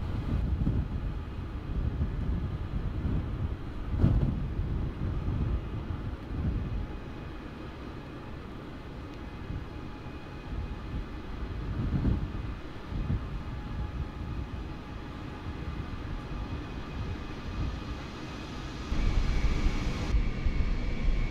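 An airliner taxis toward the runway with a steady, low engine rumble and hum that holds at a moderate, even level throughout, with no talk.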